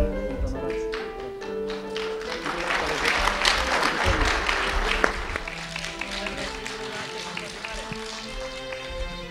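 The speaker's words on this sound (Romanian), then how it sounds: "au rămas pe scenă și au aplaudat la rândul lor pe colegii care i-au urmat" Teachers standing on stage at an education excellence gala applaud their colleagues, a steady dense clapping from a group that carries on throughout, moderately loud in a hall.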